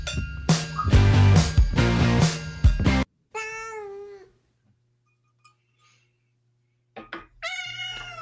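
Cats meow several times, with clear tonal calls that rise and fall, separated by short quiet gaps. Clinking and busier noise come before them, and no one talks.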